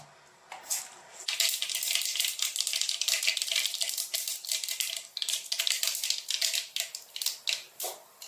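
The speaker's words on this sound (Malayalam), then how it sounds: "കടുക് പൊട്ടി വന്നിട്ടുണ്ട്." Mustard seeds pop and splutter in hot coconut oil in a pan, a rapid stream of sharp crackling clicks that starts abruptly and keeps bursting densely, close and fairly loud.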